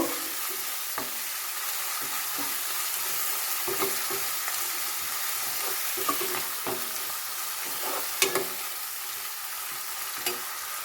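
Spices with salt and Kashmiri chili powder fry in a pan for milk chicken, giving a steady close sizzle broken by frequent scraping taps of a stirring spoon, with no talk.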